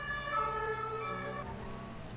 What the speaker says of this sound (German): Ja, guck, Thomas, da kommt schon der Krankenwagen für uns